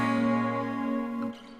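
Layered acoustic guitar chord ringing out full and warm, with an added bright high-passed strum on top. It sustains steadily, then drops off sharply near the end.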